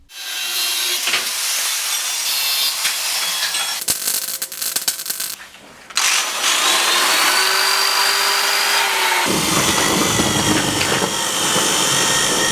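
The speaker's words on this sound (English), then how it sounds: "I'm using the power drill that I repaired in the first episode of this series of videos." A repaired power drill whines steadily at high pitch, with a brief gap and clattering midway before it picks up again, loud and close throughout.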